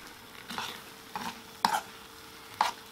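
Breakfast cooks slowly in a pan, a soft, low sizzle broken by a few short scraping stirs and light clinks at irregular intervals.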